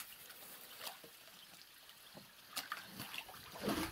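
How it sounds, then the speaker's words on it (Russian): Water draining out of a camp pond in late autumn, a soft trickle running under a layer of duckweed, faint and continuous, with a few louder splashes and bursts of movement near the end. "Вообще довольно сильно вода утекает."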